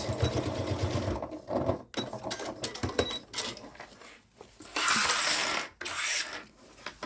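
A sewing machine tacks fabric for a bucket caddy, running in short close bursts of rapid mechanical stitching with brief pauses between runs.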